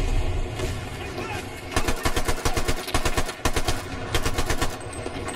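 Full-auto gunfire from a weapon in Battlefield Bad Company 2, rapid sustained bursts of shots in several strings, loud and close, with faint game ambience between bursts.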